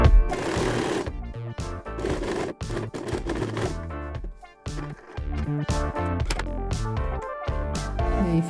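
A sewing machine stitches over the start of a seam on a tank top, running in loud, steady bursts with brief pauses between runs, no voices over it.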